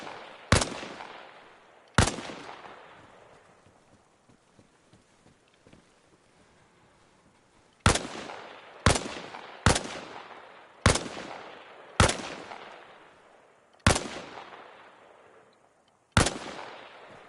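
Nine sharp rifle shots ring out in the video game Arma Reforger on a training range, widely spaced, each a loud crack followed by a long fading echo, with near silence between them.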